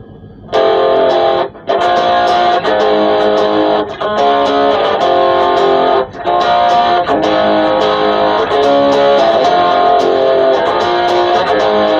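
Distorted electric guitar through a VOX AC1 Rhythm amp, a loud, gritty sustained stream of chords with a few short breaks between phrases, heard alone.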